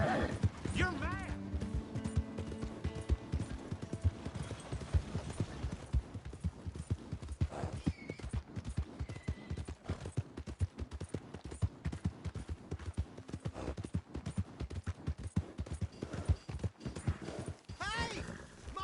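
Horse hooves clip-clopping in the Red Dead Redemption video game, a steady rhythmic gait running throughout, with a whinny and game voices talking near the start.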